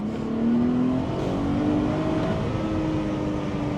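A Mercedes SLK 350 engine revs at full throttle into the red zone, a loud sustained roar with a rising tone near the start that holds high and steady, heard from inside the car without speech.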